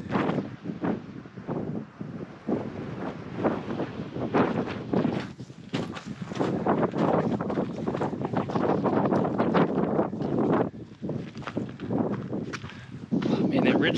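Cold, gusting wind buffets the microphone on a mountain ridgeline in the Kofa Wilderness, roaring in uneven bursts close up, with a person talking beneath it.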